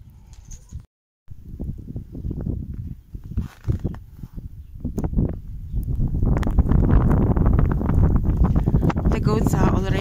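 Strong, steady wind roars and buffets the microphone, building louder over the clip, with rustling and scattered knocks mixed in.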